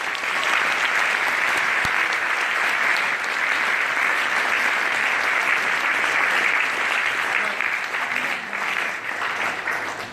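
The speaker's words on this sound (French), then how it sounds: "Est-ce qu'on peut l'acclamer?" A church congregation at a Paris service breaks into sustained, loud applause, dense and even for the whole stretch, with a few faint voices mixed in.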